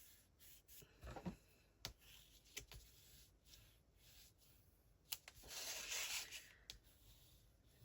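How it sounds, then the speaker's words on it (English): A tool or fingertip rubs firmly along a folded paper crease on a handmade card, giving soft, faint scraping strokes with a few light taps and a longer rub near the end. "Burnish here again."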